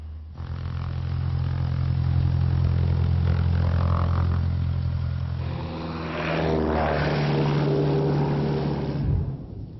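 A Cessna propeller airplane takes off from runway 35 with a loud, steady engine drone and propeller buzz that swells and shifts in pitch as the aircraft accelerates, heard close and alone before the sound cuts off.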